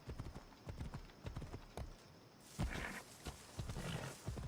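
Rhythmic horse hoofbeats clip-clop steadily over a low rumble in Assassin's Creed Odyssey, with a brief shift in the background sound midway.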